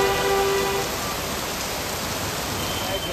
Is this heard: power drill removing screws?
no